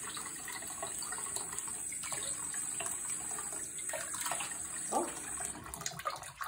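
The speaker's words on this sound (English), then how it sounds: "Wash them off in the sink." Water runs from a faucet into a sink as a three-legged cat is washed, a steady close splashing stream with occasional sloshes and drips, no talk over it.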